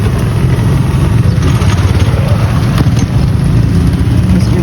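Large motorcycle engine running loud and close, a steady low rumble with slight revving throughout, while people shout in the background.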